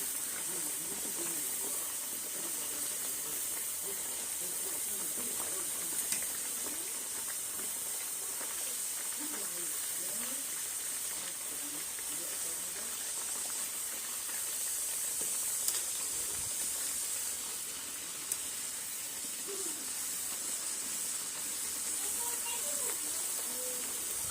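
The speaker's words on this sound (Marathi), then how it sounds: "अशा प्रकारे आपण सर्व पुऱ्या तळून घेणार आहे" Puris deep-frying in hot oil, a steady broadband hiss and sizzle running throughout with small bubbling crackles and occasional light clicks, fairly even in loudness and without talk.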